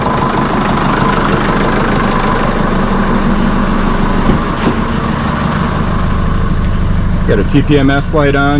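A Jeep Liberty KJ engine idling steadily with revs bouncing slightly, a continuous low rumble running throughout while someone talks over it near the end.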